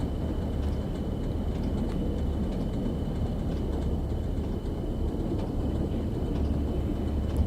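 Train running in Train Sim World 2 on a Northern Trans Pennine route toward Huddersfield and Stalybridge: a steady, continuous low rumble of the train in motion with faint higher clicks, even in level throughout with no talking.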